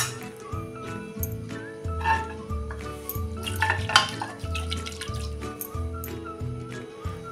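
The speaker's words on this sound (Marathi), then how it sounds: "ही आता एकसारखी रवीनं घोटून घेऊया।" Cooked dal is whisked smooth in a pot with a wooden churner, giving repeated rhythmic sloshing and stirring strokes at close range, steady throughout with no speech.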